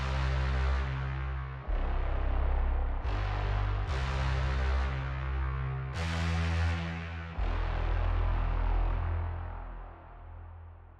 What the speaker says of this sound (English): I got a favorite bram effect which I can control.